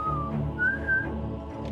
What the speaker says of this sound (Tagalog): nagpractice ang mga bata ng mga sipol na hudyat na ginagamit upang magbigay babala kapag may banta o panganib